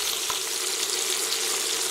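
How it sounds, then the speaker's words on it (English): Seabass fillets fry in a pan with a steady, close hiss of sizzling oil, and one brief soft clink near the start. "once we finish frying our fish here"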